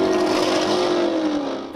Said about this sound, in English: The racers, totally unconcerned about our car sitting on the side of the highway with its hazard lights on, passing right by us, shaking our car